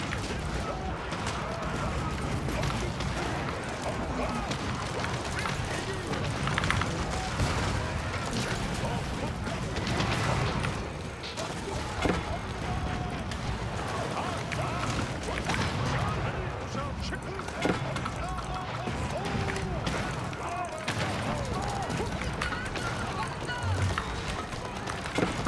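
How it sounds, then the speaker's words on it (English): Bombard Towers firing in an Age of Empires style strategy game, a dense continuous barrage of booming shots and crashes that never lets up, with a player talking over it throughout. "this is all Bombard Tower shooting"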